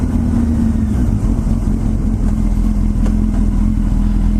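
A motorcycle engine runs steadily while riding, a loud, continuous mid-pitched drone with a constant hum and slight rough texture, near and unbroken throughout.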